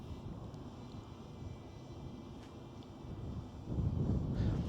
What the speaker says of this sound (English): I know it's the sound of the drone.